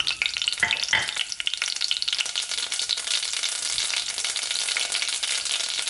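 Mustard and cumin seeds sizzle in a hot pan with a bright, dense crackling hiss, close and steady, with a few stirring knocks early on and no talking.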